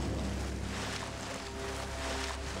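A waterfall ahead near a cave in a Deinosuchus crocodile hunting video game gives a steady, full rushing roar of falling water that fills the whole stretch without a break or a voice.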